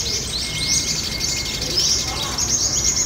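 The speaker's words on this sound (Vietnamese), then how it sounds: "Con này là một con chim beo anh em." A chim beo songbird gives repeated high, bright chirping calls close by, with soft background noise and a faint voice underneath.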